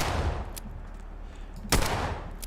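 Gunshots fired at radstags in the video game Fallout 4, two sharp reports, a lighter one early and a louder crack near the end, over a low rumbling background.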